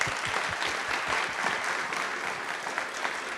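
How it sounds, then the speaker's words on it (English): An audience at a city council meeting bursts into sustained, dense applause for Beth, with many hands clapping steadily at close range and no voices over it. "please give Beth a rousing round of applause"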